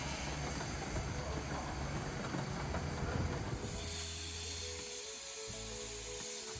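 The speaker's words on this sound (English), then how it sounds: "the Black Prince steam train pulled into the station" The Black Prince steam locomotive on the Romney, Hythe and Dymchurch Railway hisses loudly as it rolls into a station with low rumbling and clanking, then eases to a near stop while steam keeps hissing.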